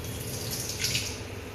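Water from a purifier tap pours into a cooking pot, used to take water for making dal, as a steady close splashing stream that runs without a break. No one speaks.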